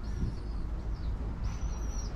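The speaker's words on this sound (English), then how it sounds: "baby pigeons." Baby pigeons give thin, high squeaking calls inside an abandoned ice skating rink. The faint calls come in two short bursts over a heavy, low rumble of room noise, with no talking.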